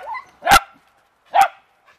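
A beagle or dachshund barks twice at wet, dripping leaves outdoors, two sharp, loud, close barks about a second apart with quiet in between.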